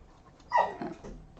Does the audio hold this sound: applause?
no